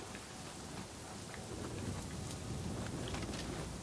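Heavy downpour in the action game Nioh 2, a dense steady hiss of rain with distant rumbles of thunder, fairly quiet and uninterrupted, no voices.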